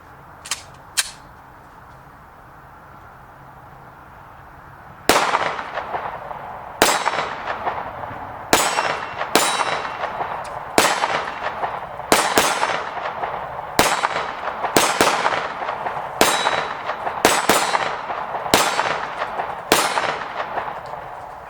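A Glock G3 9mm pistol firing Aguila 115 grain +P FMJ rounds, a dozen sharp loud gunshots at a steady pace outdoors, preceded by a couple of small metallic clicks and a quiet pause.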